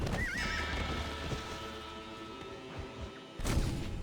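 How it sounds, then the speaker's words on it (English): A horse whinnies loudly in the video game Red Dead Redemption on PS5, followed by hoofbeats and a heavy thud as it runs off a bridge, with background music underneath. "My horse just decided to randomly run off the bridge on his own accord."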